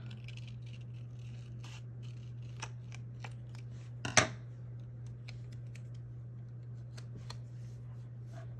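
Scissors cutting paper for a Happy Planner spread: quiet, scattered snips with one sharper, louder cut in the middle, over a steady low electrical hum in a still room.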